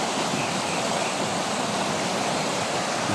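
A stream near a sea inlet pours in a steady, dense rushing hiss, loud and unbroken throughout with no voices.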